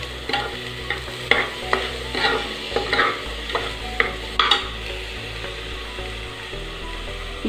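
A spoon stirs and roasts ingredients in hot ghee for sakkarai pongal, with steady scraping strokes in a regular rhythm over a soft, continuous sizzle close up.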